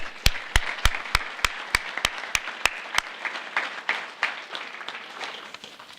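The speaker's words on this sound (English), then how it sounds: "I'd actually like a round of applause for all the family members that make this possible" Audience applause at a police promotion and retirement ceremony, with steady rhythmic loud claps close by over a bed of scattered clapping that gradually fades toward the end.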